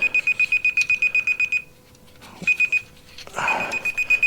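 Rapid electronic beeps from a measuring device pulse steadily, stop while the garage drain pipe is being raised, then return in short bursts with a scrape of handling noise.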